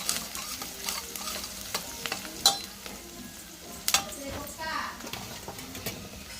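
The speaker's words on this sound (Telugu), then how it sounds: "బాగా కలిసేంత కలిపి వేసుకోవాలి." Turmeric is being stirred into a pan in a village home kitchen, with quiet sizzling, irregular scrapes and clinks of a spoon against the pan, and faint voices and a child's speech in the background.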